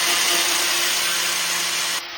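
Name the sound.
sanding a metal bumper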